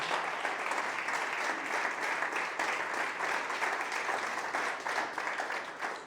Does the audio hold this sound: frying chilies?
no